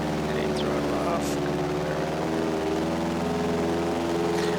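Helicopter flying in GTA San Andreas, a steady droning engine hum with layered tonal buzz that holds level throughout, moderately loud with faint background clicks.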